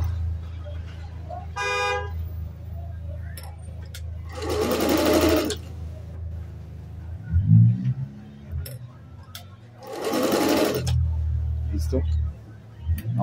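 A black Singer La Negrita ZZ sewing machine runs a straight stitch in two short, loud whirring bursts separated by quieter handling sounds, with a voice speaking nearby.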